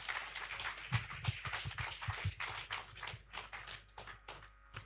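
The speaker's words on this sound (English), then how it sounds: "Please give him a round of applause." A sparse audience at a capacity building forum claps near the microphone, with irregular, uneven claps that thin out toward the end.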